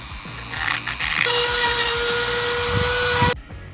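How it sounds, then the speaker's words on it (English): A rotary tool grinds away plastic around an old, burnt battery connector, giving a steady high-pitched whine at close range that cuts off abruptly near the end. "So grinding is finished"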